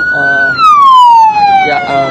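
An ambulance siren wails as the vehicle sets off carrying victims of a fatal toll-road crash, loud and close, a single long falling tone sweeping down across the stretch with traffic noise beneath.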